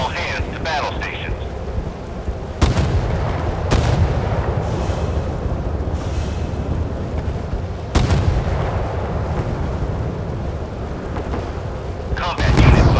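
Naval artillery in the warship game Force of Warships booms as several heavy, loud cannon blasts over a constant rumbling battle background, with brief game voice announcements in between.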